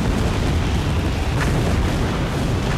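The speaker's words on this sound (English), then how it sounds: "Oh good lord, there's just explosions and everything everywhere." Explosions in a WCW wrestling video game, a continuous roaring wall of booms and rumbling blasts with no clear gaps, loud and close, and no one talking.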